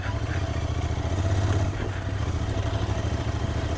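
Royal Enfield Interceptor 650 motorcycle revving hard while climbing through sand, a steady, loud, close engine drone with a brief swell in pitch midway and continuous low rumble throughout.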